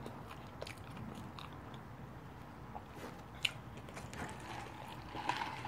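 Someone bites and chews a White Castle cheeseburger close up, with soft wet mastication and an occasional sharper crunch standing out over a faint background hiss.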